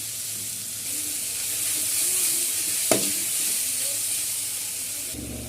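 Sliced onions sautéing with a little salt in a pan for a pumpkin stir-fry, giving a steady close frying sizzle with stirring and one sharp utensil clack near the middle.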